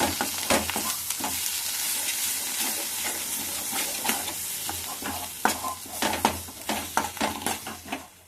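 Bitter gourd, stuffed, frying in an oily pan, with a steady sizzle and repeated scraping strokes of a spatula stirring it, close and alone with no talk.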